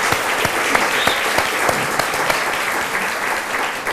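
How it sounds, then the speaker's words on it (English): A room full of people applauds the Children's Theater at a Metro Arts strategic plan event, thick continuous clapping with a few sharper claps poking out, loud and sustained from start to finish. "Let's please give the Children's Theater a round of applause."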